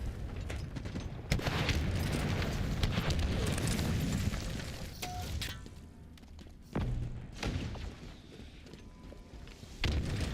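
Rocket explosions in a video game boom and thump repeatedly, with a dense, rumbling barrage interrupted by sharp blasts, heard over game noise with no clear talk.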